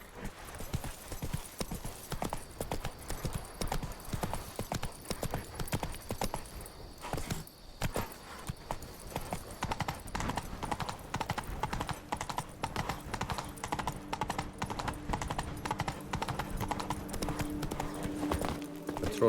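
Horse hooves clip-clop steadily along in The Witcher 3, a brisk even gait that continues throughout with faint game ambience beneath.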